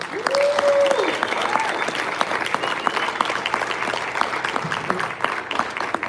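Loud, sustained audience applause at a community awards ceremony, crisp individual claps cutting through the crowd, with a whoop and shouting voices over it early on.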